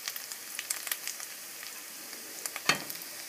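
Onion with ginger-garlic paste and spices frying in soybean oil while being stirred, a faint steady sizzle with scattered small pops and one sharper scrape near the end, close, without voices.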